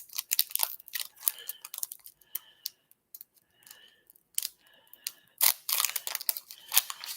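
Trading card packs being torn open and handled at close range, with crinkly foil ripping, rustling and scattered snips and crackles coming in bursts, and brief faint voice sounds between them.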